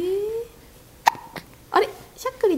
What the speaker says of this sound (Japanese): あれしゃっくりだ。